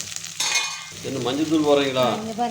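Onions, curry leaves and green chillies fry in a pan of oil for a mutton fry, giving a steady close sizzle with a brighter crackle building partway through.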